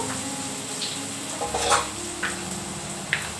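Spices frying in a pan, with a soft steady sizzle and a few light clinks and scrapes of a spoon stirring, fairly quiet and with no talk.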